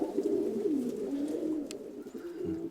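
Pigeons being rehomed cooing softly up close, a continuous low, rolling warble with overlapping calls, fairly quiet, with a brief faint knock near the middle.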